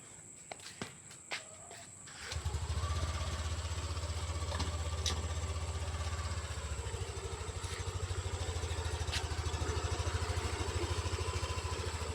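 A family motorcycle's engine starts up after a few footsteps and settles into a steady, close idle with a low continuous rumble that holds for the rest of the stretch.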